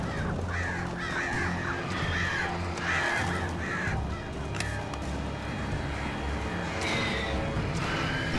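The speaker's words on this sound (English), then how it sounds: "Stupid birds." Crows cawing repeatedly in the Alan Wake Remastered video game, harsh calls rising over a steady game ambience throughout.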